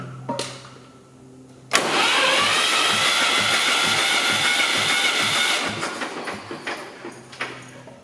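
A Ford 2000 tractor engine cranks over on the starter during a compression test, loud and close, with a steady rhythmic churning for about four seconds that then winds down.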